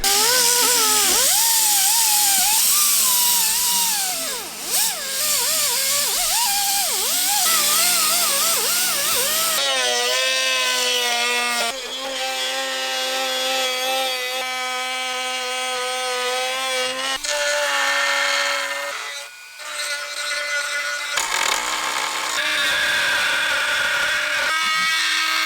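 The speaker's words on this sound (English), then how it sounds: "After I drill these holes, I'll probably use fiberglass over it and make it all smooth." An electric drill bores holes through fiberglass motorcycle bodywork on a wrecked CBR600RR, a loud, close, high whine whose pitch rises and falls as the bit bites and frees, in several long passes with brief breaks.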